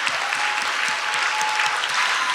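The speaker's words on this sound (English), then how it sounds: "Give yourselves a round of applause" A story slam audience claps steadily and loudly throughout, dense applause with no pauses.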